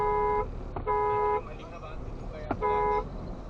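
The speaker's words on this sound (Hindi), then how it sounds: "यहाँ पर थार का हॉर्न भी बजाया जाता है" A Mahindra Thar Roxx car horn honks in traffic near a bike carrying three riders: three short steady toots, moderately loud, separated by road noise.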